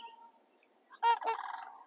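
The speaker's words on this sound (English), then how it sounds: "You can also hear crane calling on the left-hand side." Sandhill crane calling near a lakehouse, heard from a kayak: a faint, quiet opening, then a sudden loud, rolling, rattling bugle call that carries on for nearly a second, alone with no talking.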